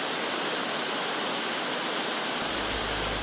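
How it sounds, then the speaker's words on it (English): A garden water wall pours a thundering curtain of falling water, a steady, dense, broadband rush that stays constant and loud throughout with no voices. "the thundering curtain of water commands attention and captivates the mind"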